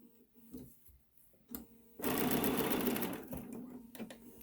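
A sewing machine runs in one steady burst of stitching about two seconds long as it goes back over a missed corner of a fabric face mask. Softer handling clicks come before and after the burst.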